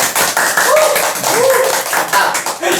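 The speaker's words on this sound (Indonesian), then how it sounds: "Tepuk tangan dong." Hands clap repeatedly in an indoor talk setting, a quick run of sharp, fairly loud claps with a voice murmuring underneath.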